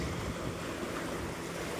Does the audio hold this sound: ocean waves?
yes